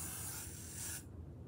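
Hairspray from an aerosol can is sprayed onto a wig in one soft, continuous hiss lasting about a second, then stops, leaving faint room noise.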